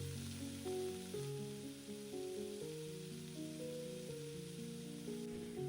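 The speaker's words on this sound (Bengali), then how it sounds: "এই পেঁয়াজটা কিন্তু আমি হালকা গোল্ডেন কালার আসা অবধি ভেজে নেব।" Chopped onions and whole spices fry in hot oil for an egg curry, a soft, even sizzle running beneath louder background music.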